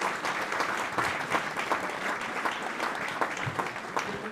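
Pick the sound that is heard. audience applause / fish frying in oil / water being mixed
audience applause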